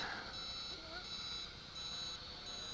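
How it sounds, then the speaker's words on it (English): Small electronic beeps from the camera of an HT F801 quadcopter drone, thin repeated tones that are faint beneath background noise. "This is the camera, because I hear beeping"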